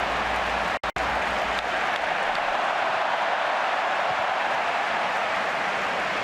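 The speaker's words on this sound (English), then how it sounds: "Crowd roaring their approval there of the work of Messi to retain this Barca attack." A large football stadium crowd roars and applauds in approval at a Barcelona home match against Real Sociedad, a loud, steady, dense wall of cheering that holds throughout with no talk over it.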